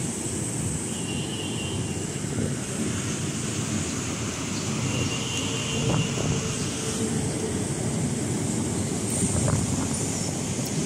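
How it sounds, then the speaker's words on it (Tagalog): Steady outdoor wind blowing beside a long building, a continuous broadband rush that holds at an even level throughout with no voices. "Maganda rin kasi may hangin dito. Mahangin."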